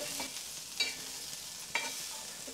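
Bombay duck dry fish roasts in a little oil on a griddle with a faint, steady sizzle, broken by two light scrapes of a stirring utensil.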